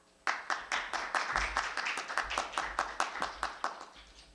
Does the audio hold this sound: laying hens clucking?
no